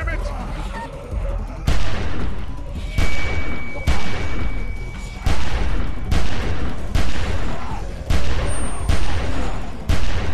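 Repeated gunshots fired in The Walking Dead video game, a string of loud sharp blasts at irregular intervals, roughly eight to ten shots, with a game character's voice talking over them.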